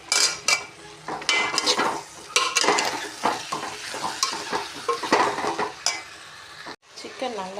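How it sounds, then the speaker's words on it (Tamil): Chicken with turmeric powder is stir-fried in a pan, hissing sizzle under frequent metal spatula scrapes and clinks that come in quick irregular bursts, close by, with no talking. "சிக்கனை போட்டு நல்லா அது கூட நல்லா கொஞ்சம் மஞ்சள்தூள் போட்டுக்கோங்கம்மா"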